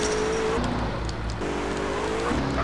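A loud, droning car engine in GTA: San Andreas revs and rises in pitch, shifting gears once midway, with a tire-squeal edge in the background.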